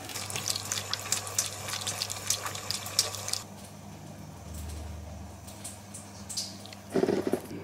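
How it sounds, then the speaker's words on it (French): Water runs from an indoor tap while a cat drinks from the stream, a fairly faint, steady trickling splash that eases off partway through. "Je pense que Jack n'est pas le seul à boire au robinet depuis tout petit."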